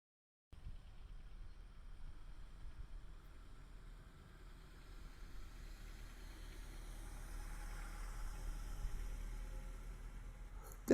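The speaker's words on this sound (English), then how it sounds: "Here is the Accord coming towards a listener." A Honda Accord car approaching slowly, its quiet, steady engine hum and tyre rumble rising gently over about ten seconds as it nears, with no talk over it.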